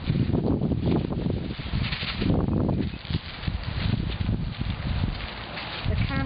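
Gusty outdoor wind on a very windy day in Texas buffets the microphone with loud low rumbling surges, heard beneath someone talking while dyeing and marbling tissue paper.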